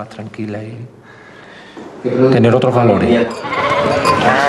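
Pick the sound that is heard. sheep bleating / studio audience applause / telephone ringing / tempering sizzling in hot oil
sheep bleating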